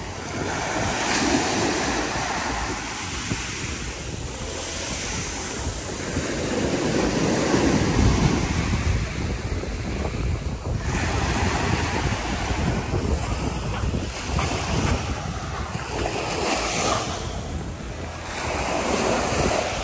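Sea waves at the beach at Playa de Aro on the Costa Brava, a continuous roar of surf with swelling and receding breakers and steady wind noise on the microphone, with no speech.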